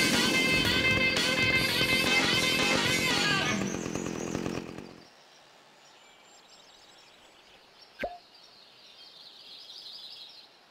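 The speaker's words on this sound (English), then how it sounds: "Have you met my chainsaw?" A chainsaw roars loud and continuous in the Open Season video game, running for several seconds before cutting off abruptly, leaving faint ambient game sounds with a brief sharp accent partway through.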